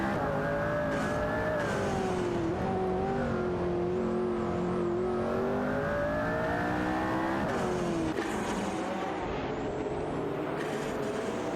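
Race cars in an AI racing game accelerate and hold high revs, a loud continuous engine whine rising and falling in pitch across several gear shifts, steady and close throughout.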